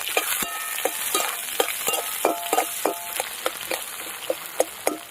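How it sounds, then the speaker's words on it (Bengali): Onion, garlic and dried red chilies frying in mustard oil, a bright crackling sizzle broken by frequent sharp spatula knocks and scrapes against the pan, close up, with no voices. "এবার এই পেঁয়াজটা আর এই রসুনটা একদম লাল করে ভেজে নিতে হবে"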